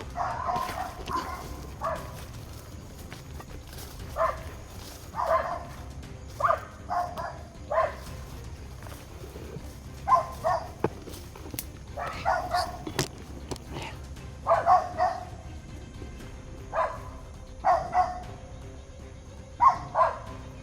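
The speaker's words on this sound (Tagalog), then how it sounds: "May aso." Dogs bark repeatedly at a moderate distance, in irregular bursts of single and doubled barks that keep going throughout.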